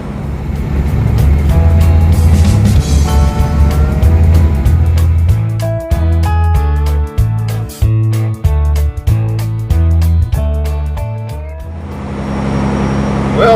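A semi truck drives down the road, its engine a loud, close, continuous rumble heard from inside the cab, with gear shifts breaking the drone into stepped pulses midway.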